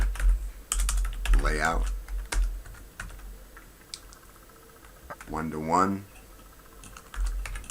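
Steady computer keyboard typing while writing an AutoLISP program, continuous light clicking running beneath someone talking through much of the stretch.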